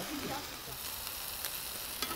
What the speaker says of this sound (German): so brutzeln wir ja ganz gemütlich vor uns hin